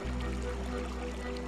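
A creek swollen by torrential rain in a rainforest, with steady, dense rushing water and a low continuous roar and no break.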